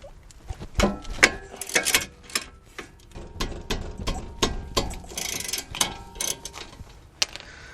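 A ratchet works loose the 17mm brake caliper bolts on a Honda Accord LX, a series of close, crisp clicking bursts with short pauses between strokes and faint metallic ticks.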